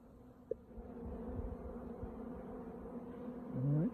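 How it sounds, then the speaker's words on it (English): Honey bees fly around their beehives, a steady close buzzing drone with one bee sweeping loudly past near the end. "Perfect beekeeping day today. They're flying well."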